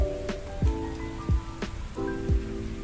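Rain falls steadily during a monsoon outing in Mumbra, India, a broadband patter on surfaces with a few sharper drop hits and splashes mixed in, fairly close and continuous throughout.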